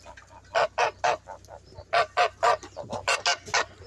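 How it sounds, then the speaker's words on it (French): Backyard chickens, just let out of their coop in the early morning, give a run of loud, close, rhythmic clucks and honk-like calls, about a dozen sharp bursts in under four seconds with no talking. "les poulets ils vont très bien, les 2 premiers, ça court"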